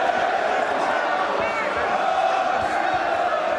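A big arena crowd at a boxing match sings the Leeds United song, a dense, continuous roar of many voices with a commentator talking over it.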